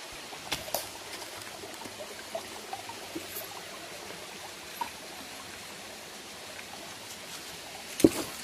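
A river flowing beside a waterfall on a mountain trail, heard as a steady, moderate rushing wash with a few faint knocks and footsteps over it.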